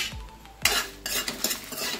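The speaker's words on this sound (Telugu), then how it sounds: "లైట్గా ఆయిల్ వేసుకొని మీకు తగినంత 10 లేదా 12 ఎండుమిరపకాయలు వేసుకొని వేయించుకుందామండి." Dried red chillies fried in a little oil in a pan, with a couple of quick metal scrapes and clinks of a spoon over a faint sizzle, close and brief.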